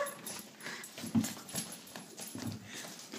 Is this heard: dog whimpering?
yes